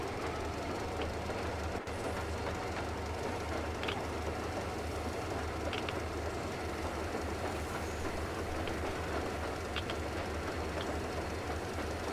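A train rolls along rails in the video game Metro Exodus, a steady low rumble with faint rhythmic clatter and occasional light squeaks, continuous and moderately distant with no talk.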